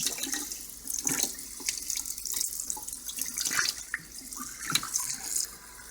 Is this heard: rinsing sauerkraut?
yes